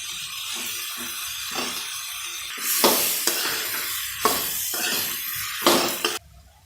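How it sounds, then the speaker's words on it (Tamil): Prawns with brinjal, drumstick and beans sauté in a pan. Steady oil sizzle runs under repeated scraping stirs of a spoon against the pan, then cuts off abruptly. "அதோட இந்த இறாலையும் போட்டு வதக்கிடணும்."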